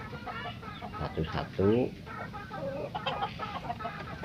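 Backyard chickens cluck and squawk in a loft coop at feeding time, a burst of agitated calls standing out briefly amid softer clucking, with someone talking over them.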